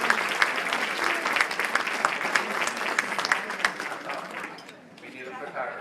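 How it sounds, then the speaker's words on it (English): Applause from the audience at a WCR Toledo chapter installation event for a women's council entrepreneur, with dense clapping across the room and a few sharper claps standing out, tapering off toward the end. "I think she deserves a round of applause"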